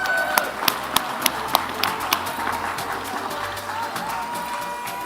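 Applause for panelists at a technology conference session, a roomful of clapping with several sharp, evenly spaced claps standing out near the start, then a softer, continuous patter.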